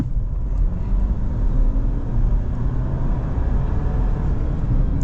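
A 2025 Ford Ranger Stormtrak PHEV plug-in hybrid pickup accelerating at full throttle in auto EV mode, a steady low engine and road drone heard from inside the cabin, rising gently, no talk.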